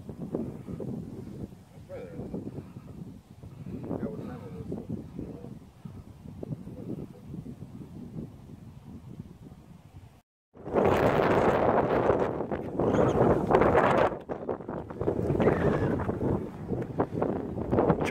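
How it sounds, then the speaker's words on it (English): Strong wind gusts buffet the microphone on the Lulumahu hiking trail in Hawaii, a rough, continuous roar that swells sharply partway through, with people talking beneath it. "it's a little too windy right now to fly"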